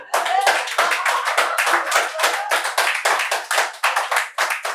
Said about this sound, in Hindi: तालियां वैसे खूब बज रही हैं